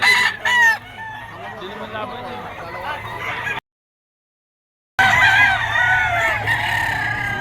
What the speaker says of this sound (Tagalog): kung kursunada nyo yung mga manok ni Boss Tony